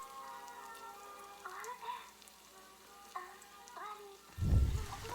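Onions frying in a pan for Egyptian chicken shawarma: a faint, steady sizzle under intermittent talking, ending with a low, dull knock or stirring thump.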